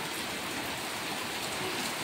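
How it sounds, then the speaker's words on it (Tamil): Heavy rain pours down steadily, a dense, loud, unbroken hiss of water with no voices or other sounds over it. "இவ்வளோ மழை பெய்யுது ஃப்ரெண்ட்ஸ் பாருங்க"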